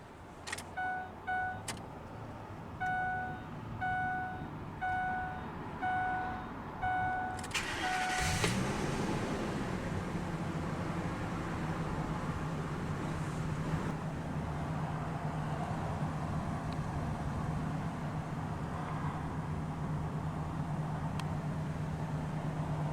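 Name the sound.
Ford F-250 Triton 6.8 liter V10 engine starting up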